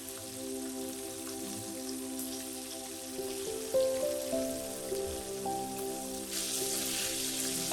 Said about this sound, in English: Fry for about 3 minutes on the first side and then fry for about 2 minutes on the other side.